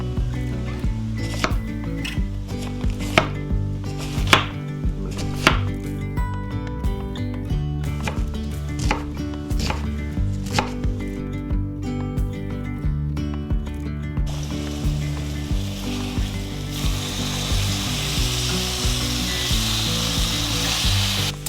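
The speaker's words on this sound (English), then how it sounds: "Take off the bottom of our cabbage, and we'll get this thin sliced" A knife thin-slices cabbage for homemade chicken ramen, making a run of close, rhythmic crisp cuts against a board, later giving way to a steadier hiss, all under background music.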